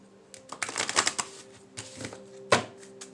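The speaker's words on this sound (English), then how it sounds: "I'm going to shuffle again." A deck of cards is riffled and shuffled in quick bursts of crisp flutter, with a sharper snap near the end.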